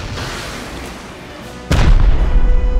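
Gunfire in a video game aimed at a base's two-layer wall: a steady rumbling barrage that jumps into a loud, heavy burst of booming shots partway through.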